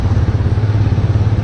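Asian Beast 250cc dirt bike engine running, a loud, close, steady low throb with a fast even pulse, alone for a brief moment.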